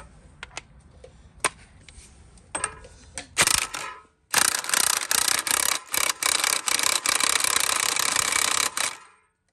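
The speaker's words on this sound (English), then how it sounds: "Tighten that bolt up." A hand ratchet tightens a bolt with a few scattered clicks at first, then long runs of fast, loud, rasping ratcheting in repeated strokes before it stops abruptly.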